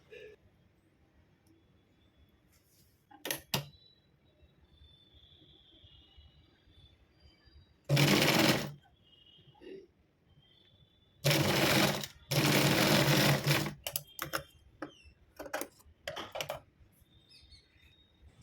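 A sewing machine stitches a latkan for a blouse in short bursts, with a few loud runs of stitching separated by quiet pauses, near and alone apart from faint background chirps.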